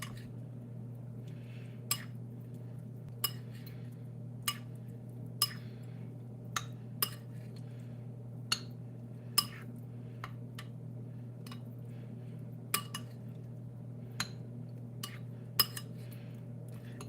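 Mozzarella pearls with salt, pepper and olive oil are stirred, giving a series of bright, isolated clinks of utensil against a dish at irregular intervals over a low steady background hum, no talk.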